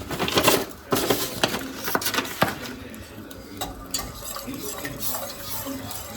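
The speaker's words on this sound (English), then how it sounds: "It said to keep stirring to prevent lumps and make sure it's thick enough like a pudding." Spoon stirring a thickening onion soup base in a pot, with scraping clinks against the pot sides, busier at first and then settling into softer, steady stirring, close and moderately loud.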